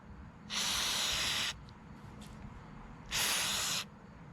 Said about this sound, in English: Take some carb cleaner.